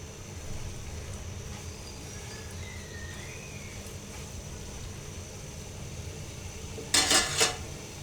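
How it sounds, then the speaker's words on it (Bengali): Moringa leaves fry in a pan over medium heat with a steady, soft sizzle throughout, then a brief clatter of metal utensils near the end. "আমি মিডিয়াম আঁচে ভেজে নিচ্ছি"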